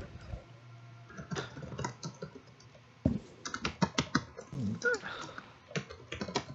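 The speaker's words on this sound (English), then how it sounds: "that's me typing" Rapid clicking of typing on a computer keyboard, heard up close with irregular bursts of keystrokes throughout during a Halo 5 custom game session.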